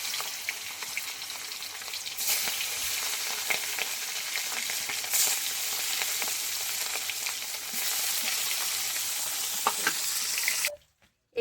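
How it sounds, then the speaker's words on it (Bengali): A small hilsa fish rubbed with salt and turmeric fries lightly in a pan, giving a steady, close sizzle with faint crackles that cuts off abruptly near the end. "এইভাবে নুন হলুদ মাখিয়ে হালকা করে ভেজে নেবো একটু মাছটা।"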